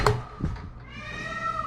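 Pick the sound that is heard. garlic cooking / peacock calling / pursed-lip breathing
peacock calling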